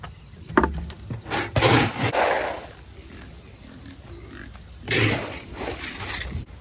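Pigs grunt and root while eating food dumped on the ground, with scattered snorts and rough munching and scraping bursts that come and go, close by and alone.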